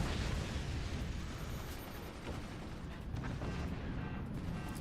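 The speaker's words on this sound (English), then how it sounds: "Internal explosion." A steady, dense rumble of explosions and blasts from the physics-based RTS game Forts, with an internal explosion erupting inside a player's fort, loud and continuous with no clear pauses.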